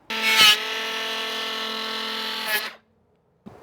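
A tool cuts off excess wood in a rotten wooden window repair, making a steady grinding rasp that holds for about two and a half seconds, loud and close, before stopping, followed by a brief knock.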